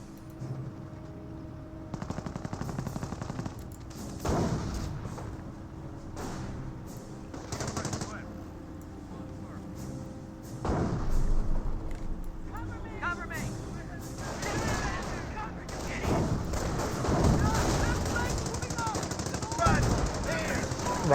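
Bursts of .30 cal machine gun fire in the World War II strategy game Company of Heroes, repeated rapid volleys amid other gunfire and explosions, with a voice talking over the battle throughout.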